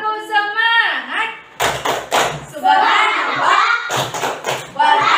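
A classroom of children claps a rhythmic cheer, sharp bursts of claps in quick groups between stretches of a teacher and kids speaking and chanting close by.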